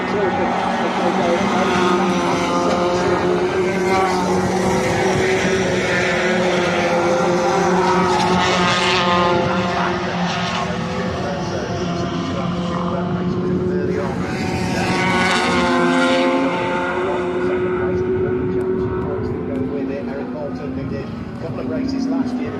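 Touring race cars battle closely for second place at Brands Hatch, engines roaring loud and continuous with shifting pitch as they pass, under a commentator's steady talk.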